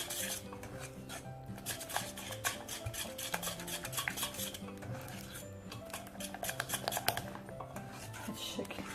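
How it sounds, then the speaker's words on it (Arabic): A spoon stirring a dough mixture with orange blossom water in a bowl, with repeated scraping and clinking strokes in an uneven rhythm, close and clear, while someone talks faintly. "غادي نزيدو له دوك 2 ملاعق نتاع ماء الزهر، وغادي نخلطو جيدا بهذا الشكل"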